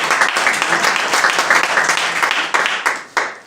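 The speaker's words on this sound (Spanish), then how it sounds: "Muchas gracias, le damos un aplauso a" A church congregation claps together, brisk and close, the applause thinning out and trailing off into a few scattered final claps.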